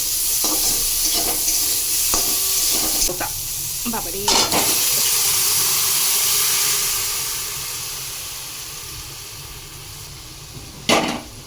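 Potatoes with green chilli, turmeric and salt fry in a pan ahead of adding bottle gourd. A steady sizzle runs under repeated stirring clatters and scrapes, fading somewhat before a sharp clank near the end.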